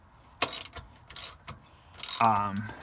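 A ratchet backing out the shock absorber bolts on a Crown Vic front suspension gives a few quick, close clicking bursts and metallic clanks, then a short murmur of voice near the end.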